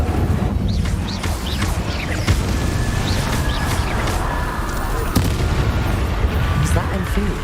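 Incendio fire spell cast in the Hogwarts Legacy video game, a dense continuous roar of blasts, crackles and booming combat effects running throughout, loud and sustained with sharp bursts layered over a rumbling base.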